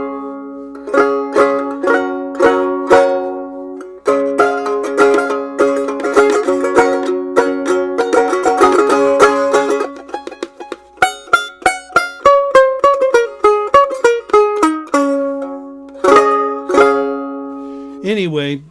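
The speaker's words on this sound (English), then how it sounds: "I'm not really a banjo player, but it sounds like this." Handmade banjo picked and strummed, bright plucked notes and rolling chords in a steady rhythmic run of nearly twenty seconds, close and clear with no talk.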